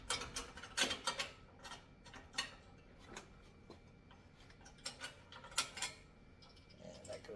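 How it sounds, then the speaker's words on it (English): A ratchet wrench tightening the bolts on a heavy-duty wall-mounted pull-up bar, giving quiet, close clicks in short irregular bursts with pauses between strokes. "And tighten these down with like a wrench or a socket"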